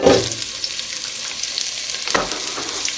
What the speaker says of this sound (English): I'm going to get the onions fried off